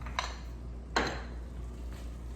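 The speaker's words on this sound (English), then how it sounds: "Stir well." Spoon scraping and clinking in a pan of hamburger noodle casserole, two or three short metallic scrapes over a quiet background hum.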